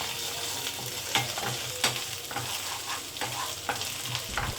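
Golden-fried onions with ginger garlic paste sizzle steadily in a pan, with a spoon stirring and scraping in repeated clicks and knocks, close up and without voices.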